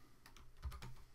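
Numbers typed on a computer keyboard in a quick burst of a few soft, close key clicks with no talking.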